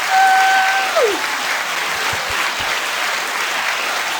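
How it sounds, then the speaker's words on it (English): A canned applause sound effect triggered by an applause button on a podcast, a burst of crowd clapping that starts loud and carries on steadily, with a short tone sweeping down at the start. "Don't forget that applause button"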